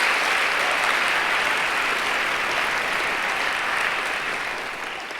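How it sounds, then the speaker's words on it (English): Sustained audience applause at an evening arts performance event, a full, dense burst of clapping that holds steady and then fades slightly over the last second. "I'd like to just give one more round of applause to Michael Silverblatt."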